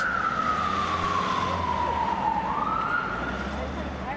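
A loud police escort siren from Metropolitan Police Range Rovers wails continuously, its pitch sliding down and then rising again, with traffic rumble underneath.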